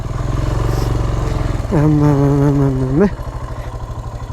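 A motorcycle engine runs close by on a mountain route toward Gupha Pokhari in Sankhuwasabha, a steady low throbbing idle with a brief raised rev in the middle before settling back; a voice speaks briefly.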